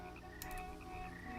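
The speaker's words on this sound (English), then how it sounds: "Frogs." Frogs croak at night in a continuous close chorus, with a brief burst of sharper calls partway through.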